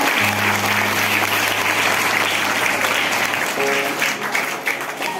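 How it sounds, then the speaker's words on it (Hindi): A crowd claps for students being honored with medals at a school event about girls' education during periods, a loud, continuous wash of applause with a faint steady hum beneath it. "लोग इनके लिए ताली बजाएं"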